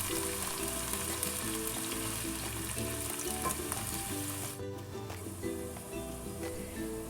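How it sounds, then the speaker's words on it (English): Onions fry in hot oil with a continuous, dense sizzle and crackle, steady and close, briefly dipping for a moment before resuming, with no voices. "Once the oil is hot, we're adding in the onions. And we're going to fry these for a few minutes"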